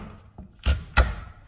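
A lever potato cutter is pressed down, making two firm chopping thuds in quick succession as the blade cuts hard through a potato into fries, with a faint tap before them.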